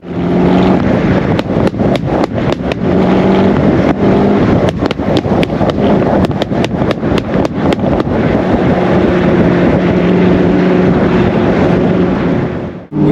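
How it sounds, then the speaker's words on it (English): A Noble M600 sports car's engine drones loud and steady throughout, a deep rumble close by, mixed with heavy wind buffeting and a few sharp clicks. "the noise, even at slow speeds, the noise is addictive. Oh, yeah. It's like an old American V8."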